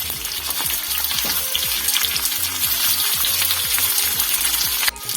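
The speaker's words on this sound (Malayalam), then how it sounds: "ഇതിലേക്ക് നമുക്ക് പച്ചമുളക് ചേർത്ത് കൊടുക്കാം ഇതിൻ്റെ കൂടെ തന്നെ തക്കാളിയും ചേർത്ത് കൊടുക്കാം" Green chillies and tomatoes sauté in hot oil in a pan for rasam, giving a loud, close, continuous sizzle with light stirring scrapes, and a sharp knock near the end, no talk.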